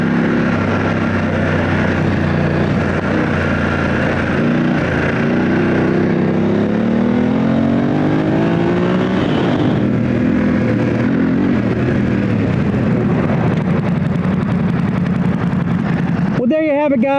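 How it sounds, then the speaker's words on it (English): Motorcycle engine laboring through soft terrain on Motoz Tractionator Adventure tires, a steady loud droning rumble that rises and falls in pitch, with wind buffeting throughout and a rider talking over it. "Hear the motor? Just churning in the soft stuff."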